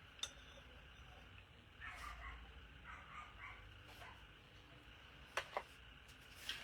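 A puppy gives a few short, faint yips and barks, scattered and somewhat distant, against a quiet indoor background.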